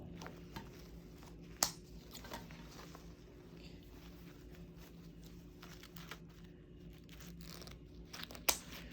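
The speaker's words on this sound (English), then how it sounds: "I'm just going to cut these all off real quick." Wreath stems are snipped off one after another, giving faint crunchy cuts and a couple of sharp, crisp clicks against a quiet room background.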